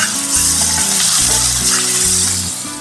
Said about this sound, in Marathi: कांदा आपण भाजून घेऊया.